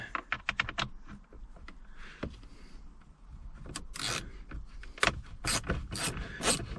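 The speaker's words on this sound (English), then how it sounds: "our ratchet" Ratchet clicking as it unscrews a small 10mm bolt on a 2024 Toyota RAV4, with rapid bursts of close, crisp ratcheting clicks separated by short pauses and soft handling noise.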